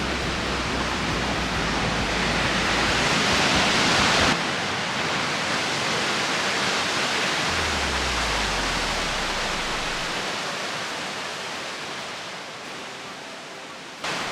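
A loud, steady rush of falling water fills the scene, broad and continuous like a nearby waterfall on the Pigeon River at the US–Canada border, with a brief low rumble partway through.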